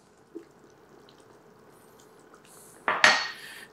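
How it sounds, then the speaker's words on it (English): Carrots are tossed into a pan of peanut curry with tofu, a quiet stretch broken by a soft early clink, then a louder clatter and sizzle of contact near the end, close by. "I'm gonna throw in my carrots."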